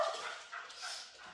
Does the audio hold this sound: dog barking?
yes